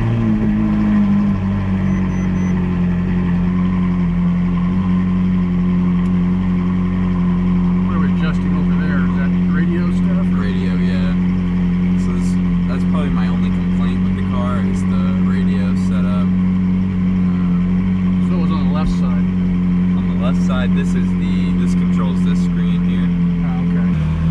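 Ferrari 458 supercar engine running steadily while driving, a loud continuous low drone with people talking over it throughout.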